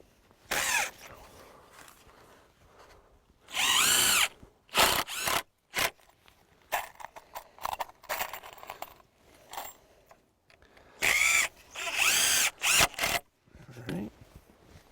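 A power drill drives screws into a 2x4 greenhouse frame in repeated bursts: several short, sharp whirring runs of varying length, separated by quiet pauses and small clicks and knocks of handling the wood.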